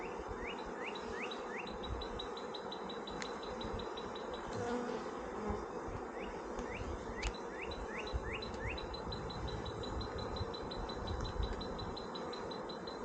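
Honeybees building comb in a homestead hive give a faint steady buzzing hum, with repeated bird chirps and calls in the background and no talk.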